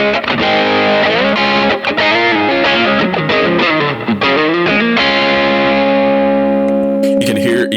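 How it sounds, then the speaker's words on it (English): Distorted electric guitar playing sustained chords and notes through heavy spring reverb, a wash that lingers and blooms behind each phrase, loud and continuous. "it just gives me more of the guitar, more of the reverb"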